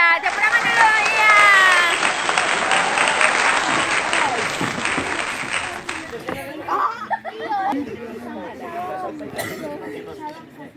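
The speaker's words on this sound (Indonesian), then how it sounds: "Ya, tepuk tangan dulu." Audience applause at a youth Easter gathering of a church congregation in Mamuju, loud dense clapping that fades after several seconds into crowd chatter and children's voices.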